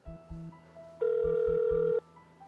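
A Korean phone line rings without answer, with low repeated ringback pulses in the background followed by a loud, steady one-second tone, as during unanswered calls placed to baseball players linked to match fixing.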